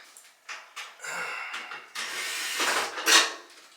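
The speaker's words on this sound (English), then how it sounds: "You can use your screwdriver and" Screwdriver working the screws out of the back cover of a Samsung dryer, a series of short scraping and clicking bursts with brief pauses between them, ending in a sharper squeak of metal near the end.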